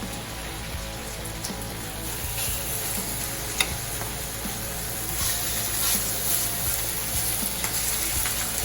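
Chicken pieces laid skin side down sizzling in olive oil for paella, a steady crackling fry with scattered pops, continuous and moderately close.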